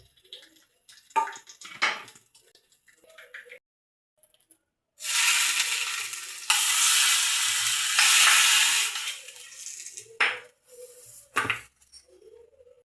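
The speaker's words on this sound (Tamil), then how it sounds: "அடுத்தது தாளித்து போட்டுக்கணும். கடுகு, வெந்தயம்," Mustard seeds, fenugreek and chillies hit hot oil for tempering with a loud, sustained sizzle and hiss lasting several seconds, framed by brief clatters and spluttering pops before and after.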